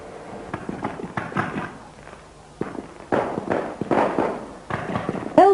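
A Belle Vue firework display cracks and booms in irregular bursts, some sharp pops and deeper thuds, with a rising whistle at the very end.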